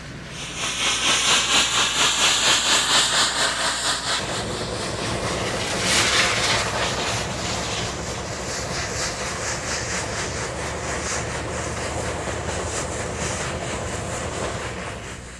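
A huge Duluth, Missabe and Iron Range Yellowstone steam locomotive roars with heavy steady hissing and chuffing, loud and close, a surge of exhaust building midway and holding as a continuous rumble.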